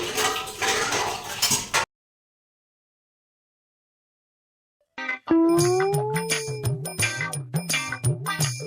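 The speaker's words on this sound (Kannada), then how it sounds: "ಇವಾಗ ನಾವು ಪಾತ್ರೆ ವಾಶ್ ಮಾಡ್ಕೊಳ್ಳೋಣ ಫ್ರೆಂಡ್ಸ್" Dishes, pots and pans being washed in a kitchen sink, with running water and repeated metallic clatter and clinks, close and busy, following a stretch of silence after an earlier burst of noise.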